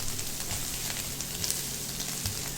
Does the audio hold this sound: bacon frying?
yes